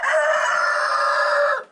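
A rooster at a homestead chicken coop gives one loud, close, sustained crow lasting under two seconds, then cuts off sharply.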